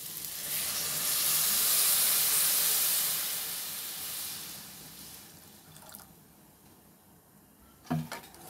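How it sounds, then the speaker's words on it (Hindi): Water poured into a hot pan for egg Maggi noodles makes a loud rushing hiss and sizzle that swells, then slowly fades, with a brief clatter near the end and no talk. "इसमें मैं अब पानी डाल रही हूँ।"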